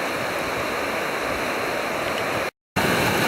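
Swift mountain river rushing nearby, a dense, steady roar of flowing water that stays constant with no voices, briefly cut to silence near the end before resuming.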